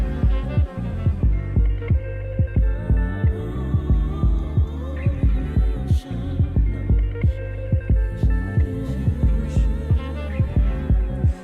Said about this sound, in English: bass drum beat almost sounds like a heartbeat too